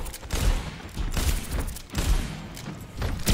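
Continuous gunfire in the video game Overwatch 2, dense and loud in repeated bursts that swell and fade over a few seconds.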